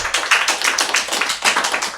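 A television show's studio audience claps in quick, distinct beats that sound close and fairly loud, a brief burst of applause with no voices.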